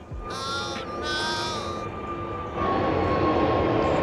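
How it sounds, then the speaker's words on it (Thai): An airplane passes overhead outdoors as a steady broadband engine roar that swells and grows louder toward the end, with a high tonal whine layered in early on; no one speaks. "เครื่องบินไปก่อน"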